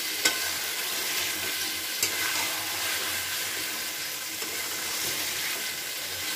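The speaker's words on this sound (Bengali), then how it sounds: "আবার কিছুক্ষণ নাড়াচাড়া করে নিচ্ছি।" Jackfruit and prawn curry with green peas sizzles and fries in a pan while being stirred, a steady close hiss with occasional scrape and clatter of the spoon, no talking.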